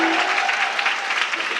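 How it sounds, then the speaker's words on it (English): Audience at an international peace art competition award ceremony gives a loud, sustained round of applause, dense even clapping filling the whole moment. "Let's give a loud round of applause."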